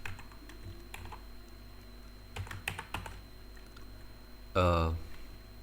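Rapid keystrokes on a computer keyboard while React Native code is written, soft scattered taps ending in a dense, louder burst of fast typing near the end.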